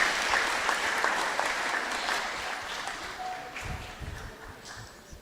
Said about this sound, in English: Kindly give her a big round of applause.